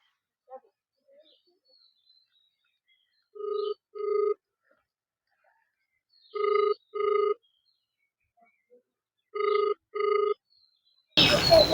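A telephone rings during an outgoing call in a quiet room, with three pairs of ringback tones spaced evenly apart, clear and moderately loud, and a brief burst of noise at the end.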